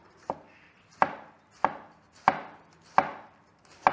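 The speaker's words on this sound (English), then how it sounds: "And then we have here nice quarters of cabbage that we're going to cut up julienne." A knife slices quartered cabbage into fine julienne strips on a board, six crisp close chops falling in an even rhythm about two-thirds of a second apart, with nothing else audible.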